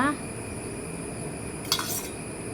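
A quick metallic clink of a spoon against a bowl partway through, measuring out spoonfuls of a homemade face pack ingredient, over a steady background hum.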